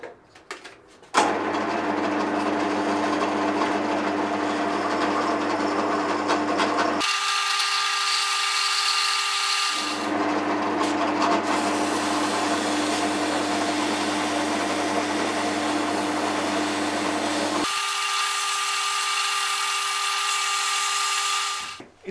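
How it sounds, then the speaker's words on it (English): A drill press run as a makeshift lathe spins a guitar truss rod while it is shaped, a loud continuous motor whine and grinding that cuts out and changes tone several times, with no speech. "I'm finishing the job using my drill press as a poor man's lathe."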